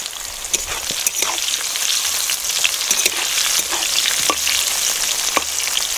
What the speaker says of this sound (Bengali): এবার তাহলে উচ্ছেটা ভাজা হোক, আর এইভাবে আমি প্রত্যেকটা সবজি ভেজে নেব।